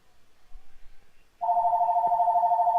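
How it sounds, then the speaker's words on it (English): Home telephone ringing indoors during a podcast, starting abruptly halfway through with a loud, steady electronic warble held continuously and close, after quiet room tone. "your phone's ringing."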